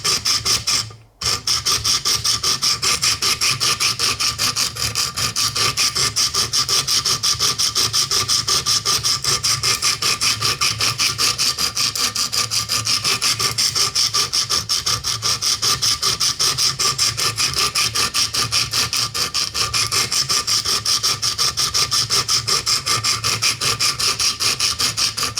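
A Buck 722 knife blade being sharpened on a Wicked Edge sharpener, a continuous rapid rasping grind of stone on steel that is loud and close, with one brief pause near the start and no talking.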